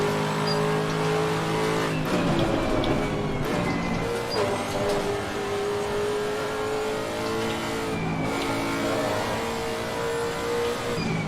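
A Lexus RC F GT3 race car in Assetto Corsa laps Silverstone, its engine droning loudly and steadily with shifting pitch as it accelerates and changes gear, plus faint tire noise and no talking.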